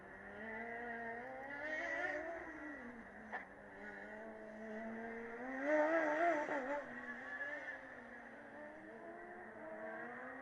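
Formula Student race cars circulating during an endurance run, engines whining and rising in pitch as one overtakes another, heard at a moderate distance with a steady mechanical drone throughout.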